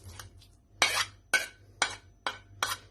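A utensil clinks against a dish while small fish are stirred into a mixture of egg and vermicelli, giving about six close, evenly spaced scraping knocks.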